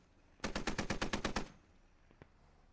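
Automatic weapon fire in the Squad tactical shooter: one rapid burst of about ten shots, loud and clipped, then a single fainter shot after a short pause.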